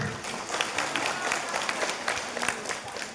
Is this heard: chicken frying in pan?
no